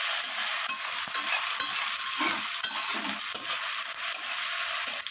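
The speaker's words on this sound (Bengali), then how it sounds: "টমেটোর সাথে আর ফোড়নের সাথে ক্যাপসিকামটাকেও এইভাবে নাড়াচাড়া করে আমি একটু ভাজা ভাজা করে নেব।" Capsicum stir-fried with tomato and tempering spices in a pan, a steady bright sizzle running throughout with scraping and stirring knocks from the spatula, close and fairly loud.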